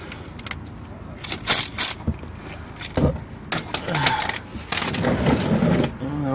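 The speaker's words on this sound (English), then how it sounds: "I'm going to use an impact to break this nut loose" Impact wrench bursts loosening a fuel line nut on the top pump of a 1988 Mercedes E 300, several short rattling hammer bursts with gaps, close and fairly loud, in a garage setting.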